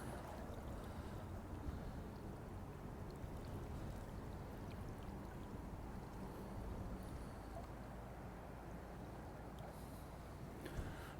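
The flooded River Waveney, swollen well beyond its usual small size, rushes past in a steady, dense roar of fast-flowing water that holds constant throughout, with no voices.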